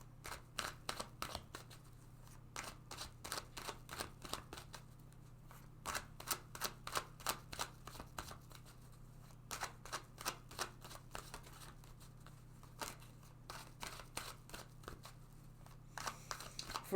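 Tarot cards are shuffled in a quiet room, with soft, rapid riffling bursts repeating in a steady rhythm over a faint low hum, close but gentle.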